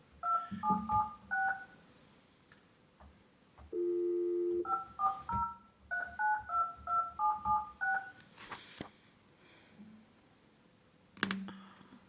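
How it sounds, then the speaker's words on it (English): Telephone keypad dialing tones in a meeting room: two quick bursts of short beeps separated by a steady held tone, near and clear, with a few clicks and a sharp knock near the end. "usually you have to press 9 to dial out"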